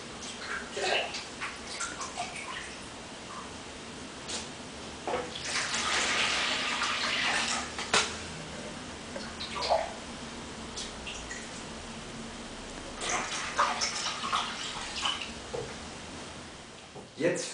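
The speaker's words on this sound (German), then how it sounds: "Zunächst fülle ich 2 Liter Wasser in dieses Rührgefäß." Two liters of water splash and run steadily into a mixing container, broad hissing bursts rising and falling, with a person talking over it.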